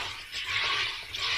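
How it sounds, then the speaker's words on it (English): A soda maker carbonates water in a short, loud gassy hiss with a bubbling, watery rush that swells and then eases. "And then we're just gonna carbonate the water."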